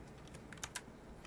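A few quick keystrokes on a computer keyboard, faint and close, clustered briefly in the middle with quiet room tone around them.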